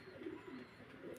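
A pair of Roman Girl pigeons coo softly at a pigeon sale, a faint low burbling repeated a few times in quick succession with no voices.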